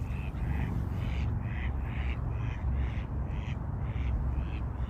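Ducks on the water give a series of rhythmic, nasal quacks at moderate distance, repeating steadily over a continuous outdoor city rumble.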